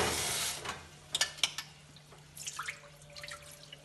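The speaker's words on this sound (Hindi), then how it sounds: "अब मैं इन सब प्याज टमाटर और सब सामान को धो लेती हूँ," Onions and tomatoes being rinsed under running water in a home kitchen, a rush of water followed by clattering drips and handling noises, close and fairly quiet.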